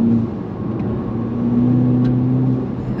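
A tuned VW Golf GTI engine revs steadily with a droning, rumbling exhaust note, held close and loud for the whole stretch with no talking.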